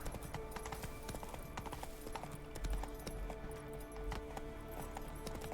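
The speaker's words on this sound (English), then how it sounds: "Wild horses." Hooves clip-clop in a quick, steady rhythm as horses gallop in the video game Witcher 3, with a faint whinny among the thudding steps and no talking.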